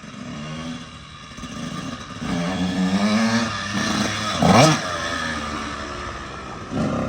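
A Kawasaki KX85 dirt bike engine revs nearby, climbing in pitch through several loud, raspy throttle pulls, with a sharper burst partway through and a steady motor drone between.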